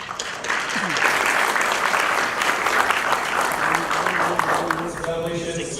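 A graduation audience applauds as a guest speaker is welcomed to the stage, producing dense sustained clapping from a large crowd at close range. Faint background voices sit beneath it before it tapers off.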